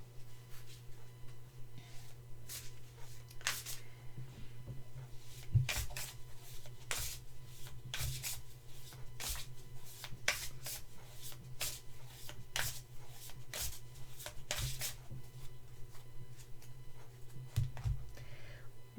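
Tarot cards are shuffled over and over, giving a steady run of crisp riffling snaps and soft card slaps. A low constant hum sits underneath.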